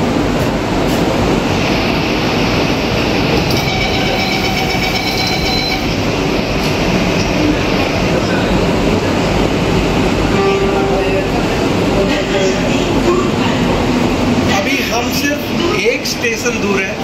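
An Ahmedabad Metro train running between stations: a loud, continuous rolling rumble of wheels on rails with high squealing tones from the wheels, heard from inside the carriage while voices speak over it.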